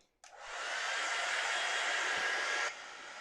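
A hair dryer switches on abruptly and blows steadily on a watercolour painting for about two and a half seconds, then cuts off, a loud close whooshing hiss.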